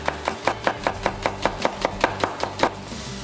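A knife cuts red onion finely on a board in about a dozen steady, evenly spaced chops, close and crisp with no talking.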